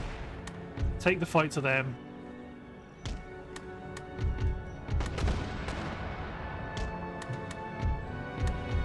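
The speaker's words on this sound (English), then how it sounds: "I'm always surprised by the presence of enemy mortars in siege city battles." Enemy mortars in an Empire Total War siege city battle fire a scattering of deep booms and cracks at irregular intervals, under a short spoken battle line and a game soundscape.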